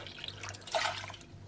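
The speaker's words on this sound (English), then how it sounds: "I've just got my kettle here to pour it out to make it easy for myself." Water poured from a kettle into a pot on the stove splashes and trickles steadily for a moment, close and fairly soft.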